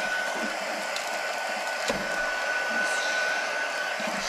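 A handheld heat gun blows a steady, hissing stream of hot air to shrink plastic wrap around a gift basket, with a faint brief crinkle partway through.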